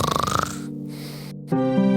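A cartoon dwarf from a Snow White animated series snores in his sleep: a short burst of rattling inhaled snore, then a drawn-out whistling breath, all within a couple of seconds.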